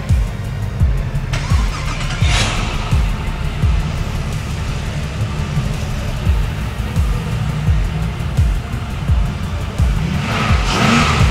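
LS V8 engine mounted on a test stand cranks over and fires up, running loud and close with rough, pulsing revs throughout.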